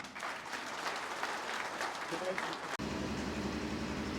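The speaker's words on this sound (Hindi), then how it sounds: "भरपूर तालियों के साथ स्वागत कीजिए" An audience applauds to welcome a speaker onto the stage at a Hindu gathering, with dense continuous clapping up close that cuts abruptly partway through, then a steadier hum.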